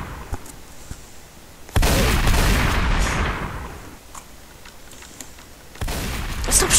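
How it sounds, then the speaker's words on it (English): Video game gunfire aimed at the player: loud, dense volleys of rapid shots in two sustained stretches with quieter gaps between, and no talking. "Stop shooting at me!"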